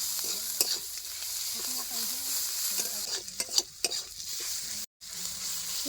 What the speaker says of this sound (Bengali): নুন হলদি দিয়ে পেঁয়াজটা একটু ভাজা ভাজা করে নেবো